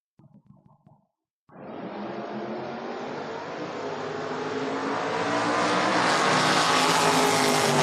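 A Ford Mustang and a Chevrolet Camaro launch at a drag race, roaring loud and close after a brief clatter, their engines building in a sustained rising howl as they accelerate away.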